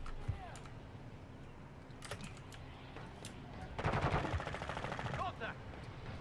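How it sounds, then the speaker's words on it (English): Gunfire in the Call of Duty DMZ video game, scattered shots then a dense automatic burst near the end, over faint background game noise and clicking. "You are taking effective fire."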